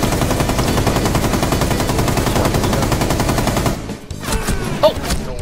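Rapid automatic gunfire from Rainbow Six Siege hammers loud and continuous for nearly four seconds, then cuts to scattered lighter impacts and clatter.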